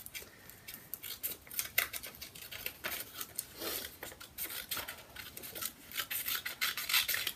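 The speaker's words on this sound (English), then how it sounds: "we're just going to cut it down the seam." Scissors cutting down the seam of folded paper for a Flappy Bird craft: a close run of dry rasping snips and crinkly paper rubs in an uneven rhythm, with no one talking.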